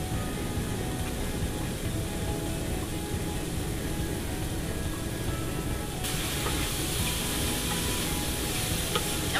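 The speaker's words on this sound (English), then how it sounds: "we're just going to saute that for a couple more minutes" Mushrooms sautéing in a pan for a vegetable lasagna, giving a steady, close sizzle with soft stirring that runs unbroken and grows brighter partway through, with no voices.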